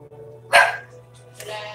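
A single dog gives one short, sharp bark nearby, followed a moment later by a softer second sound. A steady low hum runs underneath throughout.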